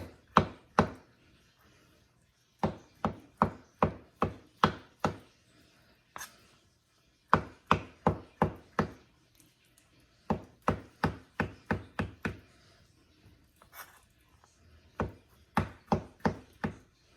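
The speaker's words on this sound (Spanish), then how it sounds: "Ya que les quité la cáscara, lo voy a picar." A knife chops peeled shrimp on a cutting board in bursts of quick, crisp knocks, several rhythmic runs of five to eight strikes separated by short pauses, close and clear with no talking.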